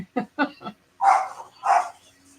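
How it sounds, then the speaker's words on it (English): A dog barks several times in quick succession, then gives two deeper, louder barks, fairly close with no talking. "dogs hear something"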